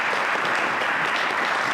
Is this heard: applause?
yes